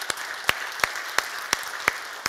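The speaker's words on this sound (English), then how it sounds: "And a big hand of applause to all of you that made this possible tonight." Audience applause at an evening fundraiser for Ukraine: sharp, evenly spaced claps from one nearby clapper ring out over a soft wash of wider clapping, keeping a slow, steady beat.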